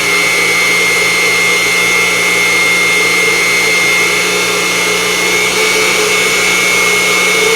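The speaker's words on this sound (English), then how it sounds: "Gonna make a shallow pass here." A Unimat SL1000 mini lathe taking a shallow facing cut on 1144 steel makes a loud, steady motor whine with a high tonal hum throughout, unbroken and close, with no voices.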